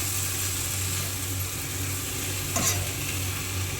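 Cluster beans curry stirred in a pan after roasted spice powder is sprinkled over it, a soft steady scraping and faint sizzle over a low hum, with one brief louder scrape near the end.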